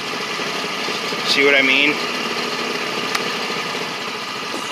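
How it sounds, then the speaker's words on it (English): A car engine ticks over at a low idle with its headlights on, a steady close drone running the whole time while someone talks over it. "It's running so low idle because the headlights are on."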